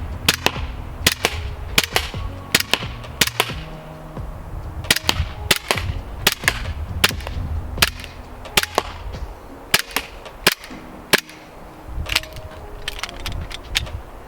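An Umarex Glock 17 Gen 4 BB pistol fires at a target downrange, sharp snapping shots in uneven bursts and singles, close and loud, with no talk.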